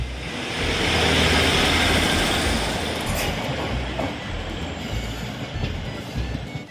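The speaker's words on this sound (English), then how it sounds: "And there goes our train continuing on its trip to Aberdare." A train to Aberdare rolls out from a platform in Cardiff, its loud rumble and wheel noise swelling then slowly fading as it pulls away, with no voices.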